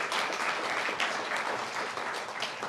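Applause at a school mock trial: a close, brisk patter of many hands clapping steadily for a few seconds.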